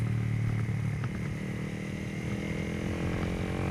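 A Honda CRF 250L motorcycle rides along curving roads in Norway, its engine holding a steady, continuous drone with faint clatter and no pauses, nearby and fairly loud throughout, with no talking.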